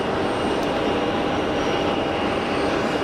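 An easyJet airliner on final approach into Geneva makes a loud, steady jet rumble and rush, unbroken across the short span with no speech.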